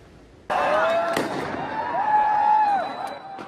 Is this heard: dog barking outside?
no